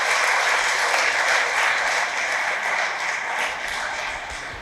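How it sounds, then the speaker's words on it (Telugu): Applause in memory of Father Anthaiah at a first-anniversary memorial Mass, a steady, moderately distant round of clapping from a gathered crowd that slowly tapers in loudness toward the end. "కాబట్టి గట్టిగా ఒకసారి చప్పట్లతో ఫాదర్ అంతయ్య గారిని స్మరించుకుందాం"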